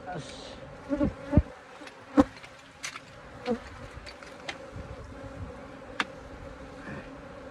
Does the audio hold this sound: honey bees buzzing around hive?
yes